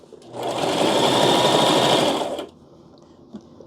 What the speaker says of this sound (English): I paid my dues and the sewing machine is compliant